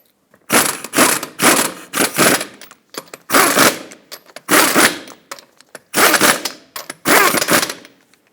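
Pneumatic or torque wrench bursts tightening five lug nuts in a cross pattern to 76 foot-pounds on a 2003-2008 Toyota Matrix front wheel, loud repeated short rattling pulses in about eight clusters, close by.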